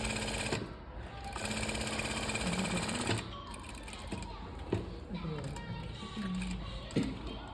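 A sewing machine stitches cloth for a doori in a fast, steady mechanical rattle, running in long bursts with brief pauses and clicks between them, close by.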